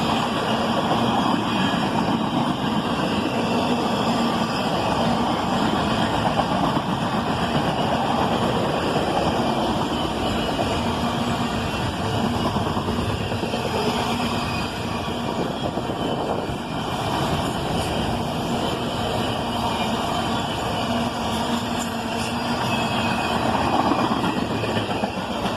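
A Canadian National C40-8 freight train rolls steadily past, hauling boxcars loaded with auto parts followed by empty flatcars, its dense rumble and rail noise holding at a constant, fairly loud level for the whole stretch with no talking.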